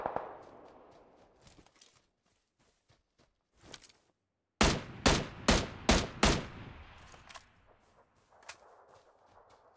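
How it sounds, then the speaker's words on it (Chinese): Gunfire in the video game PUBG Lite: faint scattered pops, then a rapid series of about six loud, sharp shots in quick succession, followed by a quieter tail of distant reports. "后方传来枪声"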